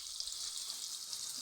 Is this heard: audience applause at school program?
no